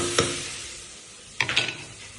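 Tomatoes sautéing in a pan as a spoon stirs them, a soft background sizzle broken by one quick scrape and then a cluster of clattering stirs near the end, with no one speaking.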